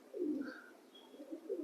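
Pigeons kept by a pigeon-keeping hobbyist coo softly in a few low, rolling phrases that rise and fall. The sound is faint and distant, and no one speaks.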